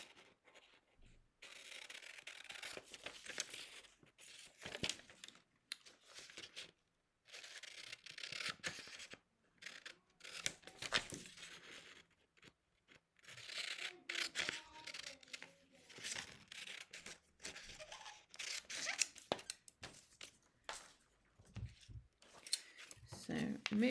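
Scissors snipping and rustling through a paper sewing pattern, cutting around the edge during neckline pattern making; intermittent close crisp cuts and paper crinkles, with a voice speaking over the cutting.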